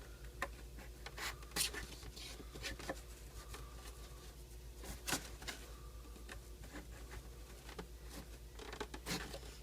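X-Acto knife slicing through the sealed packaging of a Pokémon Mega Rayquaza Collection box, close up, with irregular scratchy strokes and brief sharp cuts over a steady low hum, no talking.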